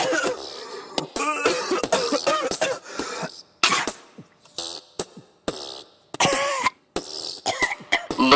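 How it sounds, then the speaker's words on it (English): Repeated coughing and throat clearing from a cigarette smoker, a series of close, harsh bursts with short pauses between them, fairly loud and without speech. "I'm coughing on account of all the cigarettes I'm smoking."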